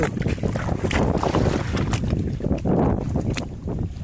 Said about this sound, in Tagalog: Hangin, huwag ka muna lalakas.